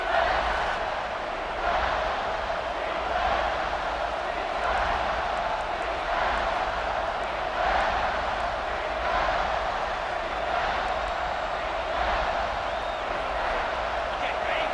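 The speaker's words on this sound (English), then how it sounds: "this crowd is getting behind this defense" A football stadium crowd roars steadily behind the defense on a big third down in the red zone, a dense, sustained wall of cheering with a commentator's voice over it.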